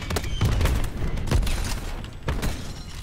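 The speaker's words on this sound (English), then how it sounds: "Enemy war machine firing." An enemy war machine fires in a video game, heavy rapid bursts of gunfire with booming low impacts, loud and dense, repeating in volleys throughout.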